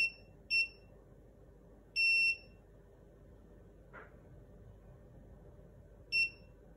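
A SARCTRAC Mk2 3D sensor gives short high electronic beeps during calibration: a pair of quick beeps, one longer tone, then another short beep, spaced apart over a faint steady background hum.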